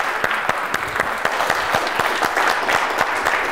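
Steady applause from a quiz show audience after player Tekla's round, a dense patter of many hands clapping at an even level throughout. No talk over it.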